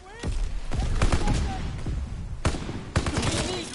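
Dense bursts of gunfire in a Call of Duty WW2 battle, with rapid automatic fire and sharp single cracks overlapping almost without pause, loud and close throughout.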